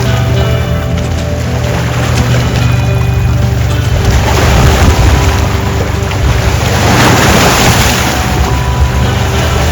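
River waves wash steadily against the shore of Belle Isle, an island on the Canada–US border, in a continuous broadband rush with a low wind rumble over the microphone and no voices.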